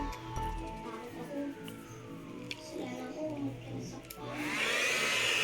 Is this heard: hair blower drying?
yes